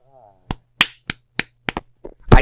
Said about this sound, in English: I clap for myself.